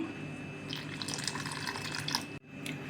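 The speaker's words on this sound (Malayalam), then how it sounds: "ആവശ്യത്തിന് വെള്ളം ഒഴിച്ച് കൊടുക്കാം" Steady running water splashes continuously into cauliflower fry batter for a few seconds, then briefly cuts off and resumes, close by.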